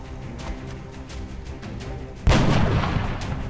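Rifle headshot in XCOM Enemy Unknown: a single sharp, loud gunshot crack cutting in after a quieter stretch of rhythmic game ambience, followed by a sustained rumbling tail.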